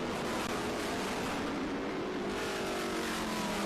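Vintage race cars circle Circuit of the Americas, their engines a faint, steady drone with a rising whine as one passes in the distance.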